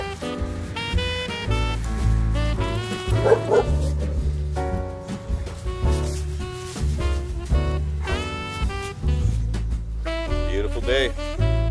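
Puppies play together indoors on Thanksgiving Day, letting out a busy run of close, loud barks, high yips and whimpers that overlap in quick bursts over a steady tonal background.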